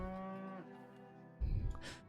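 Cows in a video game give one long, clear moo followed by a shorter, lower lowing call. The sound is close and isolated, with no talking.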